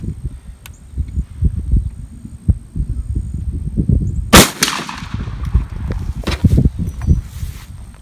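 A single loud shotgun blast of 00 buckshot through a Kick's Buck Kicker full choke cracks out at an outdoor range midway through, preceded and followed by nearby shuffling, rustling and wind noise.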